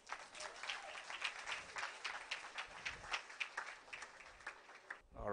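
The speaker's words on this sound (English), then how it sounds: "please clap for him." Audience applause at a technology summit greeting a futurist speaker, a few seconds of dense, fairly faint clapping with slight swells that breaks off abruptly near the end.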